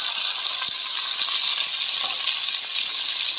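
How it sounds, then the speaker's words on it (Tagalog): Pechay stock is poured into a hot pan while cooking pancit bihon, producing a loud, steady hissing sizzle with faint stirring ticks throughout. "Ilagay na natin ang ating stock ng pechay."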